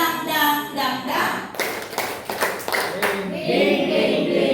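An audience doing a rhythmic 'tepuk semangat' clapping routine at a school teachers' gathering, several sharp group claps in a patterned sequence mixed with chanted voices.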